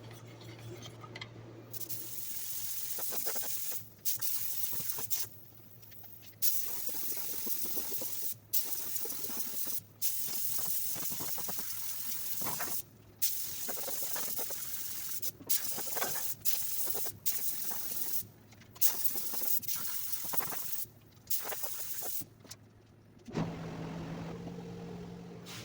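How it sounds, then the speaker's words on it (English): Long hissing bursts of black epoxy sealer sprayed from a can onto a 1965 Ford Mustang cowl, going on and off with short gaps between sprays and a low hum underneath. "I'm going to spray some of this black epoxy sealer on it"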